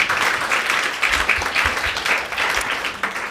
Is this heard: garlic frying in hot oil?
no